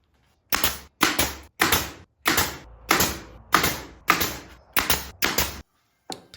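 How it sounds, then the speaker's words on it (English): A rustic wooden fireplace mantle being struck with a nail set and chisel, ten sharp, loud knocks in an even rhythm, each with a short ringing decay, close up with no talk. "I proceeded to beat it with a nail set and a chisel"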